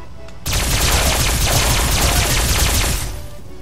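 An alien rifle in Fallout 4 fires a rapid, unbroken burst of shots for about two and a half seconds, loud and close, then stops abruptly, with no voices over it.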